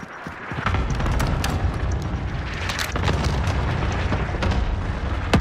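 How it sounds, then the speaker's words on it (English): Cluster strike explosions in a Call of Duty Rebirth match, a heavy rumbling barrage of booms and sharp bursts rolling almost continuously and loud across the whole stretch, with no speech. "Enemy cluster strike incoming."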